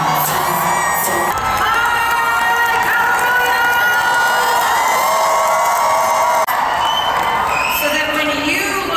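A large conference audience at a real estate company's family reunion event cheers, whoops and shouts continuously, a loud dense roar of many voices with sustained excited yelling throughout.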